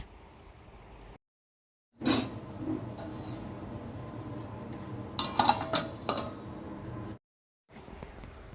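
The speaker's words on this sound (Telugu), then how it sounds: "చింత చిగురు అంతా వేసేసుకున్నాక ఒకసారి గరిటెతో మొత్తం అంతా కలిసేలా కూరనైతే కలుపుకోవాలండి" A ladle stirring prawn curry with tender tamarind leaves in a pot, heard as a steady run of metallic scraping and clinking. A louder burst of clatter comes near the middle, with short silent gaps before and after.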